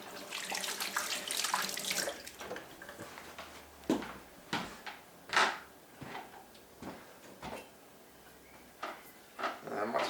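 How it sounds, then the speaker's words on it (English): Split pea and ham soup is worked through a sieve with a big ladle. Wet sloshing and dripping mix with repeated clanks and scrapes of metal on metal, close up and uneven in rhythm. "Now we get the fun bit, which is sieving out all the rest of the junk."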